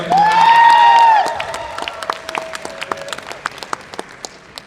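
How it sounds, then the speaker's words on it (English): A crowd claps for a contestant at a Visioncon 2023 cosplay contest. The clapping is scattered at first under a whistle-like tone, then thins into a few isolated claps that fade out. "Give another big round of applause for Grim."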